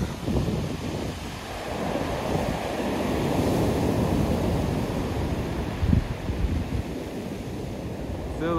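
Steady roar of Black Sea surf at Sochi in March with waves washing continuously, mixed with wind noise against the microphone; no voices.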